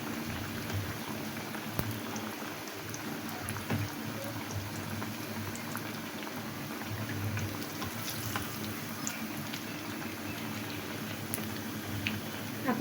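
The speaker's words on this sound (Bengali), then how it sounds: "মিষ্টি কুমড়ার চপটি আমি তেলের ভিতর দিয়ে দিয়েছি। এখন ভেজে নিচ্ছি, লাল লাল করে ভেজে নেব।" Pumpkin fritters deep-fry in oil over medium heat, a soft, even rain-like bubbling hiss with small pops scattered throughout, fairly quiet and steady.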